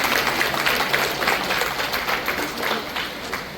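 An audience welcomes a guest with sustained, fairly loud applause, a dense wash of clapping heard throughout.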